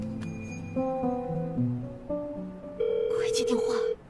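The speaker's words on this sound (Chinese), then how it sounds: "快接电话。" Phone ringing with a melodic ringtone, a sequence of steady electronic notes stepping in pitch, moderately loud and close, with a brief burst of other sound near the end.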